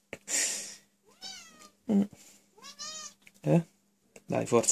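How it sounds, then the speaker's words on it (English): A pet cat meows several times in short, rising and falling calls, close and clear, with a person speaking briefly between the meows. "Okay, that was my cat."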